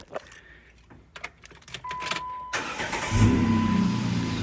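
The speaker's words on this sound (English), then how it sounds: "Let's go ahead and give her a start" Jeep Wrangler JK engine cranking and catching after some clinks and handling noises, then settling into a steady, fairly loud idle close by.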